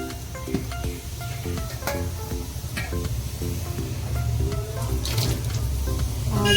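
Water runs from a tap into a pot for cooking rice, a steady close rushing stream with light clinks and rattles, growing slightly louder toward the end.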